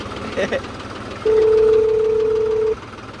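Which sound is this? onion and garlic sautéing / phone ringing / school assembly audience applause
phone ringing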